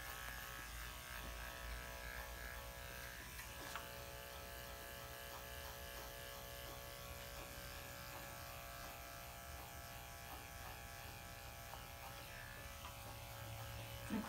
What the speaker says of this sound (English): The clipper is not touching the skin at all or the body. It's just pulling out those mats.